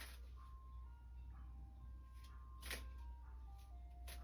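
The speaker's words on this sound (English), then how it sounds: "the ice cream truck, if you can hear it coming in the background" Ice cream truck chimes play a simple tinkling melody, faint and distant in the background over a low steady hum, with a few soft rustles and no voices.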